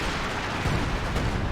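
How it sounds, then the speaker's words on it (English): Pyrotechnic artillery rains down in a Company of Heroes battle, a dense, rolling series of muffled booms and crackling blasts at moderate distance, with no voices. "Pyrotechnic artillery coming down."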